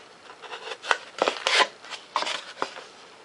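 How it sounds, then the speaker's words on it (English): An X-Acto knife trims a piece out of foam while building a removable 70mm EDF thrust tube, making short, close scraping and slicing strokes in quick, uneven bursts. "Come in here with an X-Acto knife. Take and trim this piece out."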